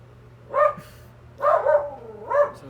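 A pet dog barks indoors in three short, separate outbursts spaced about a second apart, fairly close and moderately loud over a steady low hum, with no talking.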